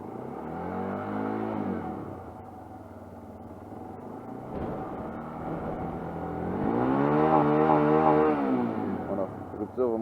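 An AM60 125cc motorcycle engine at close range, idling then climbing in a long rev toward 9000 rpm, the pitch rising and holding near the top before dropping back, with a steady rumble throughout.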